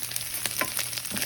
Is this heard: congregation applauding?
no